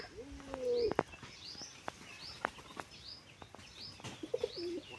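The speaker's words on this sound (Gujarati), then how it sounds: "તો જો મિત્રો કબૂતર છે." Soft pigeon coos murmur at low pitch alongside scattered chirps, sharp clicks and a brief flutter of wings, fairly quiet and close, with no talking.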